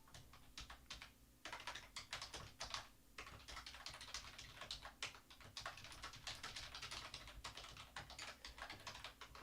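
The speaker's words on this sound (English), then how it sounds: "I gotta type on my PC's keyboard, so don't hear clack, clack, clack." Someone types steadily on a PC keyboard, with rapid, continuous clacking keystrokes close to the mic and only brief pauses.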